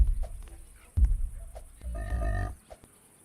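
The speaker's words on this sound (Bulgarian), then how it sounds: "Прасета! Да ме гоните!" Pigs chasing a player in the video game 99 Nights in the Forest make a few short grunting, squealing bursts, one sharp near 1 second and a longer noisy stretch around 2 seconds, with quieter game noise between them.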